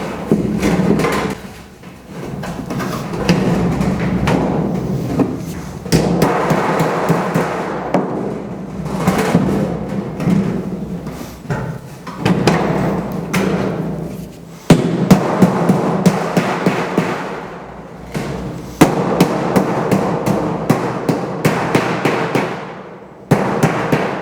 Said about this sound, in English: Sheet metal hammers are flat on one side, so you can either set and beat it down like this, or you can put the hammer sideways.